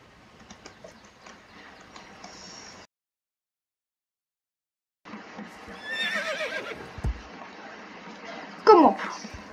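A horse whinnies in the Star Stable video game, a bright descending neigh near the end following softer hoof and ambient game sounds, with a pause of silence midway.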